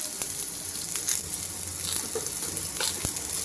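Raw green mango pieces frying in a pan over a low gas flame, giving a steady, close sizzle of hissing oil with a few soft pops and stirring clicks, no voices.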